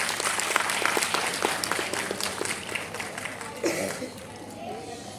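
School audience applauding a student quiz participant with dense, fairly faint clapping that fades toward the end, with crowd chatter mixed in.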